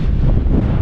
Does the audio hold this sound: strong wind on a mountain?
yes